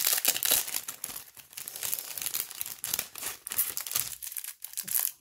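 A plastic package of embroidered tags is torn open and handled, giving continuous close crinkling and crackling of thin plastic with irregular bursts and no talking.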